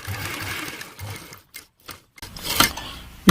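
A sewing machine runs in short bursts, stitching fabric with a rapid mechanical whir, pausing briefly in near silence before starting up again close by.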